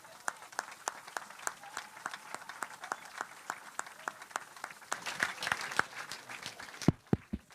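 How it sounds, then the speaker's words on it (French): A church congregation claps in a long run of steady applause. The clapping is moderately near, and a few louder claps ring out near the end. "On acclame Jésus dans ce cas-là, on acclame Jésus"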